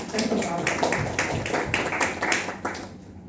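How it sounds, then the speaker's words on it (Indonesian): Church congregation clapping during a Sunday service, a brief burst of scattered hand claps with a voice talking over it, fading toward the end. "Kasih tepuk tangan Bapak Ibu Saudara."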